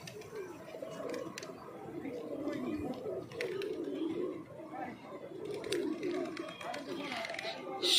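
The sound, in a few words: pigeons cooing at a temple at dusk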